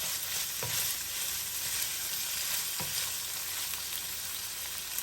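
Minced pork sizzles as it is sautéed in a hot pan for palabok, a constant crackling fry punctuated by a couple of soft scrapes from stirring, with no talking.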